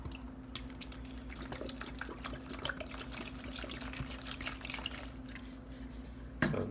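Water from a spray bottle poured into a container for a Grindal worm culture, a steady close trickle and splash with scattered drips throughout, over a faint low hum.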